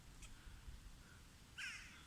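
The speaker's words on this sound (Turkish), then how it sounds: "Aa, bir tane de karga geldi." A crow caws near a pigeon loft, one faint call early and a louder harsh caw toward the end over quiet outdoor ambience.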